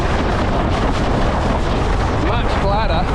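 Strong wind buffets the microphone on a windsurfing board out on open water, a loud continuous rumbling roar that stays even throughout, with faint wavering tones near the end.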